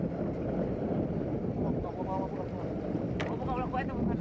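A boat motor hums low and steady beside open water, partly masked by wind buffeting the microphone, with a brief higher whine near the end.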